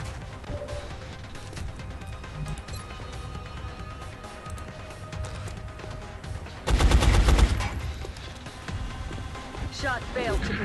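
Gunfire shoots through a wall in XCOM: Enemy Unknown as a short, loud burst of rapid shots cuts in partway through, with quieter game ambience and someone talking over the rest.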